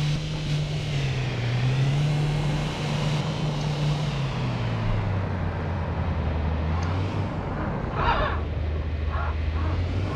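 Car driving in the video game City Car Driving: a steady, loud engine drone holds a low pitch that wavers slightly as the car moves, with faint bumps and knocks near the end.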